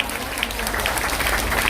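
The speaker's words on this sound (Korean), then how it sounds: "아시면 박수 한번 쳐주세요." An indoor audience at a Korean political gathering breaks into dense, continuous applause, many hands clapping together at close range, loud and sustained for the whole moment.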